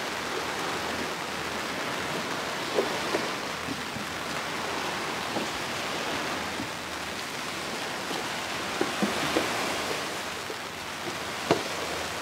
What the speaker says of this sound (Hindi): और बहुत बारिश हो रही है